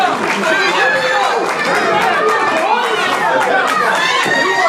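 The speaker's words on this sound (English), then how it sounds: "The crowd showing their appreciation tonight." A wrestling crowd at a live match, loud and close, with a dense mix of chatter, shouts and cheering voices. The roar holds steady throughout and builds in bursts.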